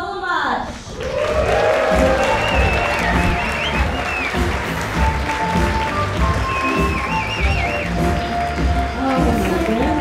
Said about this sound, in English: give a warm round of applause for your opener, Sarah Tollemache.